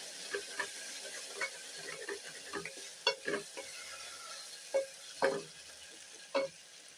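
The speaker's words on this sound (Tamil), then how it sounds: "இந்த ஸ்டேஜில் கொஞ்சம் அடையிற உரையும் அதனால் கொஞ்சம் நல்லா ஃபாஸ்ட்டாக அதை கொஞ்சம் நல்லா வதக்கி விடணும்" Onions sauté in a hot pan with a steady low sizzle, while a spoon stirs them in scattered scraping clicks and taps close by, with no voices.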